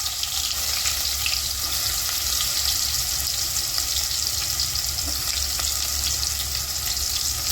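Chopped onions fry in hot oil with cumin over a medium flame for baingan bharta, giving a loud, continuous close-up sizzle with a steady crackling hiss and no voices.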